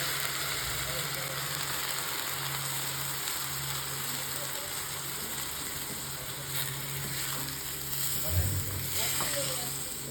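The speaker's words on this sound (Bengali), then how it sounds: "চাল দেওয়ার পর তাতে জল দিয়ে দেব" Steady sizzle of hot oil in a frying pan as rice and water go in for white polao, a continuous crackling hiss with a brief louder burst near the end.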